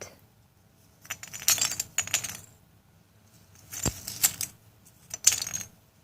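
Small hard miniature floor tiles for a dollhouse room box clinking and clattering together in three short bursts with quiet gaps between, close by and bright.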